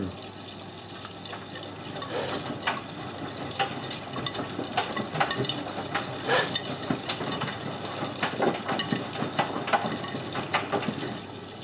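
A Miele W562 washing machine fills with water and tumbles, giving a steady rushing water hiss with irregular sloshing and soft knocks from the turning drum.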